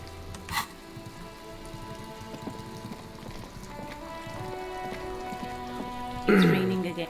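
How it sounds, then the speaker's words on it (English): Steady rain falls in the video game Disco Elysium Final Cut, a continuous wash of drops over a layered ambient backdrop, with a brief louder burst near the end. "It's raining again."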